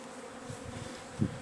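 Honeybees robbing a beehive in January swarm with a steady, dense buzzing up close, with one sharper, louder buzz flaring near the end as a bee passes right by.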